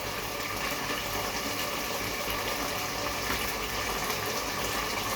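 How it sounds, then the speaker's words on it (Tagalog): Water is added to a pan of sardines sautéed with onion and garlic, giving a loud, continuous, broadband pouring and gushing rush with no speech. "Lagyan pa daw ng tubig."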